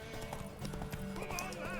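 A horse gallops in the Witcher 3 video game, with fast, close hoofbeats and a whinny. Someone talks over the hooves.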